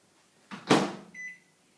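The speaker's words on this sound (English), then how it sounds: "I'm going to stick it up here in this microwave" A microwave oven door thuds shut, followed by a short beep as it starts to soften butter. The sounds are quiet, close and isolated in an otherwise silent kitchen.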